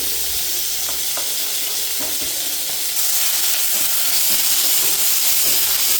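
Chopped chicken sizzles and hisses steadily in a hot pan, a continuous close frying crackle with occasional stirring scrapes and no talking.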